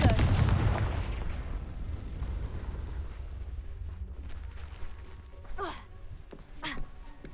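A heavy explosive blast from the Confringo spell in Hogwarts Legacy booms at the start and rumbles away into a long low roar, with a couple of fainter whooshes and brief sounds trailing after.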